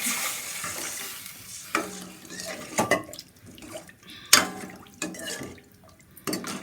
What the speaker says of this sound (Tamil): இப்போ இந்த கரைச்சி வச்ச புளி தனியாக ஊற்றிக்குவோம்.